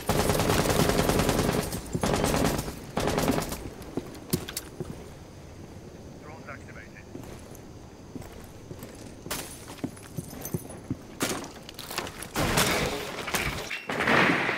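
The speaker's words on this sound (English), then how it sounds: "Can I shoot her?" Gunfire in the video game Rainbow Six Siege, with loud bursts of shots at the start and end, scattered rattles and clicks in between, and players talking over the action.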